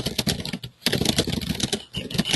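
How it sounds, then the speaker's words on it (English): Rapid typing on a computer keyboard, close and clear, with a quick irregular patter of key clicks and a brief pause partway through. "Give it a few numbers, and you'll see I'm just typing,"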